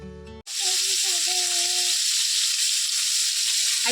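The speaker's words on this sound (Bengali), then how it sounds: "তো এবারে চিংড়ি মাছগুলো সব ভালো করে লাল লাল করে একটু ভেজে নেব।" Prawns dropped into hot oil in a wok burst into a loud, close, steady sizzle after a brief tonal sound at the start, with faint sounds and tones over the frying.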